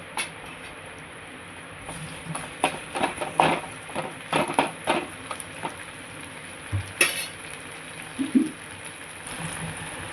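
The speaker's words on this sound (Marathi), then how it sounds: "इथे आपला कांदा परतला आहे आता त्याच्यामध्ये आपण टोमॅटो टाकणार आहोत" Chopped tomatoes going into sautéed onion in a hot pan for a soybean curry, giving a loud sizzle with a string of scraping, clattering stirs in short bursts, close up and with no voices.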